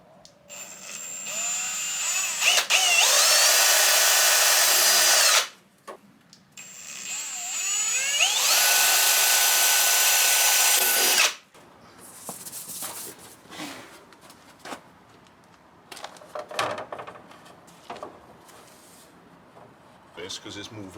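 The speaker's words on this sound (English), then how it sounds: "I'm going to drill the back one in first and then go on to hook up the front" A power drill bores into a fitment lab widebody panel on a BMW E36 compact in two sustained, high-pitched whirring runs of about five seconds each, followed by someone talking.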